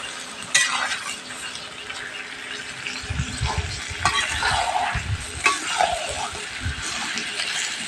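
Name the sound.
stirring duck meat bhuna in a pan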